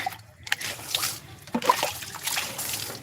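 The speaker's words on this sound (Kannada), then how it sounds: "ನೀರಿಗೋಸ್ಕರ ಅಂತೇಳಿ ಹಿಂಗೆ ನೀರು ತಗೊಳ್ಳೋದು" Water trickles and splashes steadily as it is drawn for watering a small garden of coriander and fenugreek plants, close by with slight sloshing throughout.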